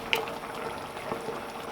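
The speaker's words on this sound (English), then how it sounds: "what we do now is let this boil away until it's reduced to about a half." Ale for a steak and ale pie boils in a pot on the stove, a steady close bubbling and simmering hiss with small pops, moderately quiet and without speech.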